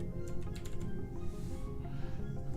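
Steady rapid clicking of keys on a Razer BlackWidow Chroma mechanical computer keyboard, close and fairly quiet over a low background hum, with no talk.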